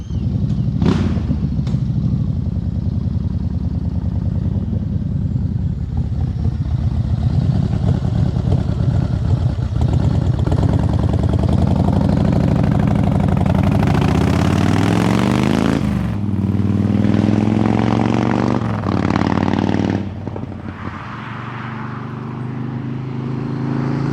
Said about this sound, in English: We'll ride past so you can hear what it sounds like on the move.